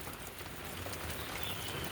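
Steady rain falls over a succulent garden, a dense even hiss of drops on leaves and surfaces, soft and constant with no voices.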